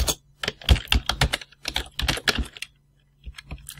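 Computer keyboard typing code on a Raspberry Pi, a close run of quick, crisp key clicks in bursts with a brief pause before a few more taps.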